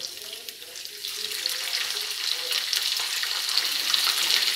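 Onions dropped into hot oil for a rice dish hiss and sizzle continuously, with a bright crackling frying sound that swells slightly over a few seconds, close up and without talk.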